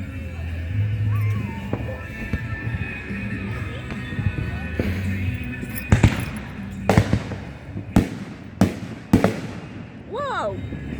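Fireworks bursting outdoors in a festive 2025 display, a series of sharp, loud explosions arriving in quick succession with a triple burst among them, over a noisy crowd background with excited voices and a whistling rise near the end.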